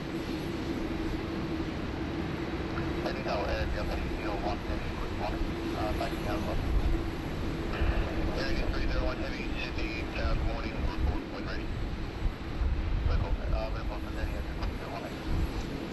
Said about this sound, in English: Indian viewers their little fix of their Dreamliner, just as she makes her way on taxiway Alpha there.